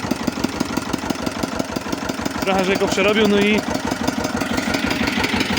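A passenger-car exhaust fitted to a modified vehicle gives a steady, rumbling idle with regular low pulses that run through the whole clip, under someone talking.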